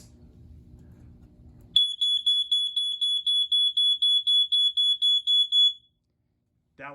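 A smoke alarm blares in a series of about a dozen loud, shrill, evenly spaced beeps, after a low hum and before a short pause.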